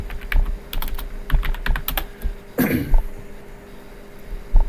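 Keys clatter on a computer keyboard in quick, irregular bursts close by, broken by a brief cough or throat clearing midway, then a short pause and a last keystroke.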